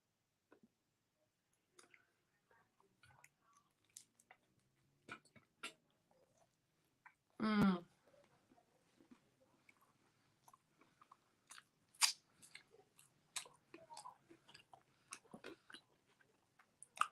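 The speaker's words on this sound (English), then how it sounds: "I think this is going to be my last taco. Take a bite, y'all." Someone takes a bite of a taco and chews quietly, with soft crunching and a sharp bite sound near the middle, followed by faint intermittent clicks of chewing close to the mic.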